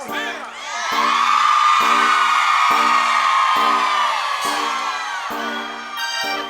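A large crowd at a live concert roars with sustained shouting and cheering, loud and continuous, with a rhythmic pulsing beat underneath throughout.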